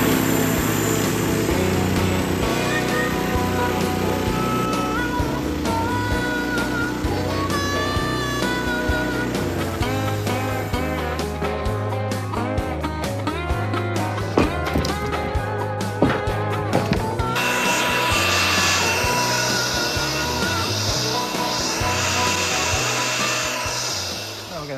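A gas-powered bandsaw mill cuts through a red oak log with a steady, loud droning whine that continues without pause, growing brighter and harsher toward the end of the cut.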